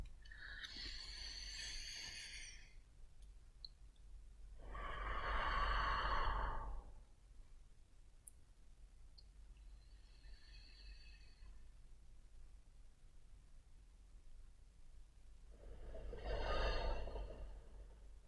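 Slow, deep breaths during a seated chakra meditation, long soft inhales and exhales spaced several seconds apart, close and quiet over a low steady hum.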